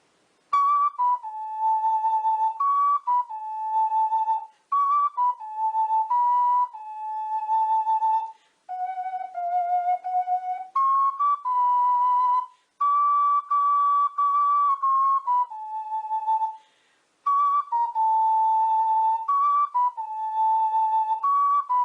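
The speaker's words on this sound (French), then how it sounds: "C'est une musique très douce que l'on entend" Soft, gentle melody from the video game Ocarina of Time, a clear whistle-like lead playing sustained phrases with brief pauses between them, steady and moderately loud throughout.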